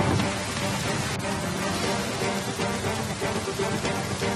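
Heavy monsoon rain in Assam pours down as a dense, continuous hiss, with no letup and no voices over the steady wash of falling water.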